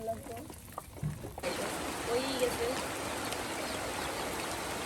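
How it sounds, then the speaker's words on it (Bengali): Heavy rain pours down on a village during outdoor cooking of oil-fried pitha, rising suddenly into a dense, steady roaring hiss that continues to the end while people speak over it. "প্রচণ্ড বৃষ্টির মধ্যেই কিন্তু আমরা রান্না বান্না করতেছি।"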